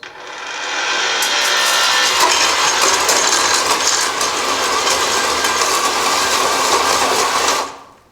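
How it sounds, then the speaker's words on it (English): Powered post hole digger boring into clay soil for a horse stall build, a loud continuous grinding whir with scraping texture that runs steadily for several seconds and cuts off, no talking over it. "So let's see if our post hole digger do any work."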